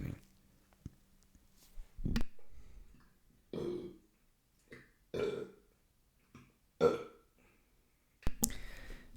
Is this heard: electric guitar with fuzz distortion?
no